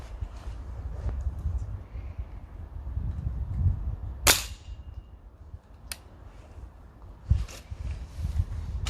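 Crosman and B3 air rifles fire pellets at targets: a few sharp, snappy shots spaced several seconds apart, each crisp and distinct over a low outdoor rumble.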